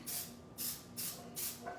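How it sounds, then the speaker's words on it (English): Four short, faint hissing bursts in an even rhythm as an oil and flour mix is sprayed into a cake pan for a mango mawa cake, heard quietly indoors. "तो ये इसमें oil और flour mixed है. And I just spray it into the pan."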